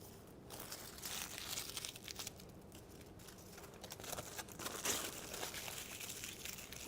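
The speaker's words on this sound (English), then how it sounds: "We're going to scrunch it into little balls." Aluminium foil is scrunched by hand into small balls, giving a continuous close crinkling and crackling that rises and falls in bursts over several seconds, with no voices.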